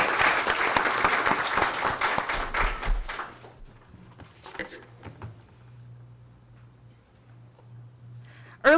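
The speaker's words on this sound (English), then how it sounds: "let's give our students a round of applause for their creativity" Applause at a school board meeting honoring students' creativity in the arts, a dense burst of clapping for about three seconds that quickly dies away, leaving a quiet room with a low hum and a few scattered sounds.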